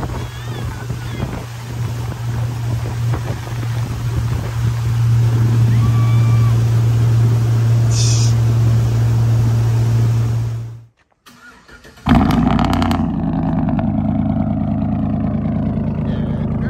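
A motorboat tows a tube across open water, its engine droning loud and steady with heavy wind buffeting the microphone, then a brief dip before the engine roars back up.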